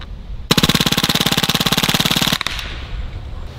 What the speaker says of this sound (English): let's do a full 33 round mag dump.